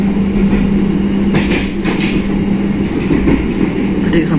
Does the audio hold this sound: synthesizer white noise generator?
no